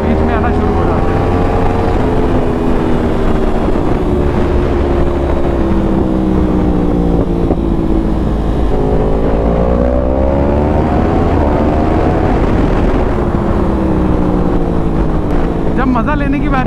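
A Yamaha R1 superbike engine roars loud and close throughout a ride, its pitch climbing and dropping through the gears as the rider accelerates, with a voice faintly beneath the constant engine and wind noise.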